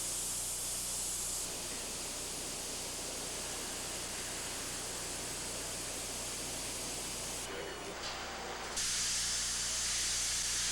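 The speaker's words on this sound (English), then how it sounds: "The bodies were then given a spray coat of primer." A spray gun applies a primer coat to Ford Model A car bodies on a factory line, a steady, even hiss of spraying that runs throughout, with a brief dip near the end before it resumes.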